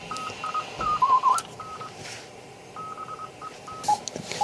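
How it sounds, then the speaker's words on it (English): A CW Morse signal received on a Kitchin regenerative receiver through its wideband filter: short bursts of a steady tone key on and off in an irregular dot-dash rhythm over a hissy, noisy background. "This is a CW signal with the wideband filter."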